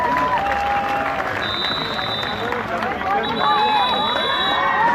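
A crowd at an under-19 girls' volleyball event claps and cheers as the players enter. The applause is steady and mixed with a babble of voices, and thin whistle-like tones cut through at times.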